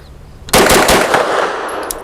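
A Grand Power Stribog SP9A3G carbine fed from Glock magazines fires a rapid burst of shots, loud and close, with sharp reports running together into a continuous crackle that tails off with echo.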